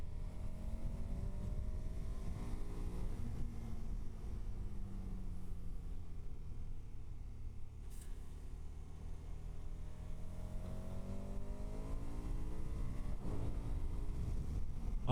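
KTM Super Adventure S motorcycle under throttle, a steady loud engine drone with rising and falling pitch sweeps as revs change, mixed with continuous wind buffeting across the whole stretch.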